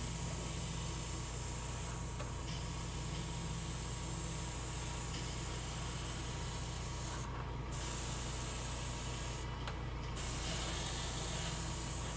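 An airbrush sprays paint onto a Space Marine Vindicator tank model, a continuous close airy hiss running steadily with two short pauses where the trigger eases off before spraying resumes.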